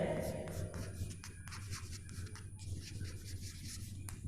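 Pen or marker writing an example sentence on a board during an English grammar lesson, with soft scratching and rubbing strokes that start and stop under a low background hum.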